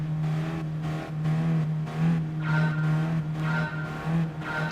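Race cars in Gran Turismo Sport rev and accelerate off the start, with a steady engine drone and tire squeal rising and falling over nearly five seconds, no talk.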